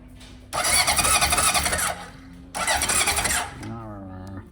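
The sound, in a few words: 1978 Honda CB750 motorcycle engine cranking with ignition on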